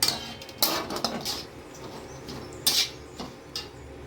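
Jute leaves stirred and sautéed in a pan for a Bengali mash, with soft scraping and clinking of a spatula against the pan in scattered, irregular strokes over a low background hiss.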